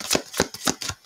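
Tarot cards being shuffled in quick riffling bursts, about five sharp rustling flutters spaced evenly, close and fairly loud with no talking.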